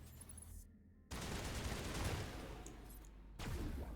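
A burst of rapid gunfire from the video game Mass Effect Legendary Edition, set on the planet Noveria, sounds as a dense, quiet rattle of shots with a brief pause before it resumes.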